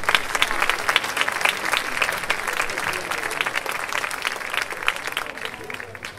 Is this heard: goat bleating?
no